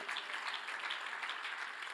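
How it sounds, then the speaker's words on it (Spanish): A church congregation at a Sunday morning service applauds in praise. The soft, even patter of many hands continues steadily, faint and somewhat distant, with no clear voices above it. "Dele un aplauso al Señor en esta mañana."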